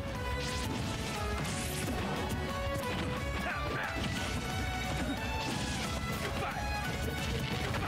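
Heavy smash and whack hits ring out in a Super Smash Bros. match between Samus and Terry at a tournament, landing amid dense crowd noise and excited commentary throughout.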